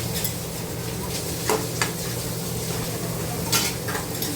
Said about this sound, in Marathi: हे व्यवस्थित आपण परतून घ्यायचं आहे हिरवी मिरची लसूण आणि जिऱ्याचं वाटण